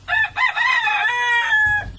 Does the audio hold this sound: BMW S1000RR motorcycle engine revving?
no